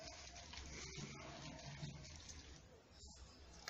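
Tap water runs steadily at moderate level while slime is mixed by hand, a continuous splashing wash with a louder gush at the very end; no speech over it.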